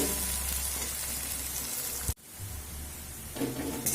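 A steady sizzle of onions frying in a pan, briefly interrupted by a short break, then continuing.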